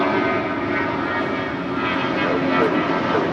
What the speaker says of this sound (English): an A320 now rolling down 25 right